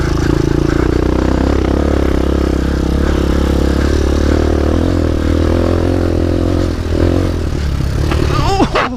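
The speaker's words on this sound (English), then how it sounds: "beginner motorcycle, a starting point for somebody that wants to learn off-road" A 2015 RPS Hawk 250 off-road motorcycle engine drones steadily up close, its pitch wavering a little as it revs, with some rattling and a quick rise at the end.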